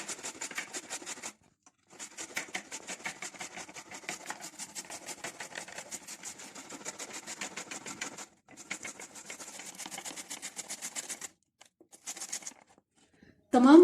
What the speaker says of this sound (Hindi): जो आलू हमारे पास हैं, इसमें इसको आलू को कश कर लेंगे।